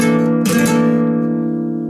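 Chord on a flamenco guitar, already ringing, then freshly strummed once in a bright, close attack that decays into sustained, fading notes alone.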